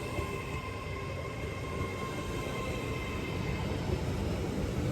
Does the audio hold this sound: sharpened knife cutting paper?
no